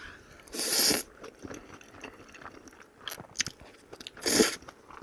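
Loud, close crunchy bites and chewing of spicy Buldak takoyaki with crisp Cheongyang chili peppers, with two sharp crunch bursts separated by quieter chewing and mouth sounds, no speech.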